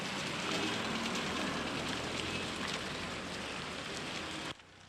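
Rain falls steadily on Mother Teresa Square in Tirana, a broad, even hiss of drops on paving and puddles that stays constant and fairly close for several seconds before dropping away abruptly near the end.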